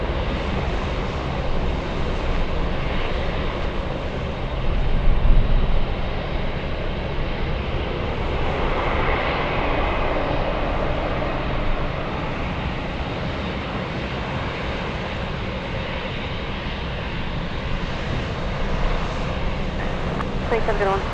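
Jet engines roar at a distance at Anchorage airport, where two Atlas Boeing 747s and a 777 sit on the field. The steady broadband rumble swells slightly near the middle.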